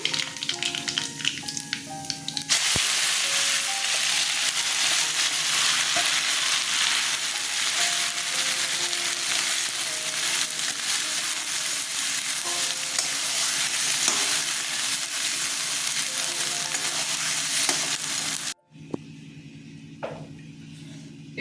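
Cumin, mustard seeds and turmeric crackle in hot oil for a vegetarian arum dish: a dense, loud, continuous sizzle that lasts most of the time. It starts abruptly and cuts off sharply near the end, leaving quieter kitchen noise.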